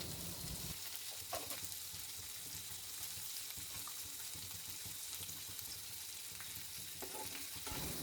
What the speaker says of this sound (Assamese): এতিয়া বেলেগকৈ কাটি থোৱা কেপচিকামখিনি দি দিছোঁ। আৰু ইয়াক ভালদৰে লৰাই থাকি সোৱাদ অনুযায়ী নিমখ আৰু হালধি দি দিম।